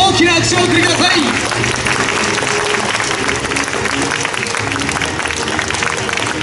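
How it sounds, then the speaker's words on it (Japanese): Audience applause after a ninja troupe's martial arts demonstration at a Tokugawa Ieyasu and Hattori Hanzo performance show, a loud, steady wash of clapping lasting throughout, with faint voices mixed in underneath. "今一度大きな拍手をお送りください。"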